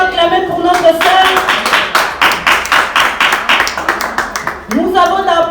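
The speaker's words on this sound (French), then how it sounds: "Nous pouvons acclamer pour notre sœur" Steady congregational clapping in a church, loud and continuous for several seconds, dense overlapping hand claps with a voice speaking before and after.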